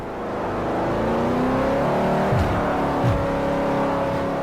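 El Camino engine in Forza Motorsport 4 on Xbox 360, a steady revving drone that climbs through gears with brief shifts, moderately loud and alone without talk.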